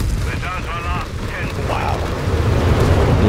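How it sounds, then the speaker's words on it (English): Artillery barrage in a Company of Heroes 3 2v2 match, a loud continuous rumble of explosions and booms with brief whistling tones, under a caster's talk. "now that bunker artillery is coming in"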